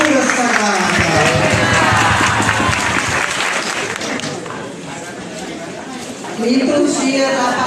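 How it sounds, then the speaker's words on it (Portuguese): A church congregation claps together during Mass, a dense, steady wash of applause that fills the room, with voices blended in and a brief swell near the end. "Salva de palmas a palavra de Deus"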